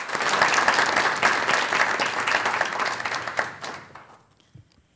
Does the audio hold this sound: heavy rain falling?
no